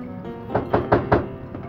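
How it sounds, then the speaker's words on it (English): Four firm knocks on a door in quick succession, close and solid, followed by a couple of fainter taps, with no voices. "Just then, they heard another knock at the door."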